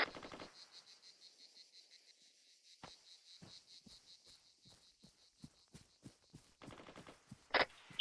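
Rifle fire in Arma 3 during infantry platoon training, rapid irregular shots and short bursts after a quiet start, set over a steady, high, insect-like chirring background.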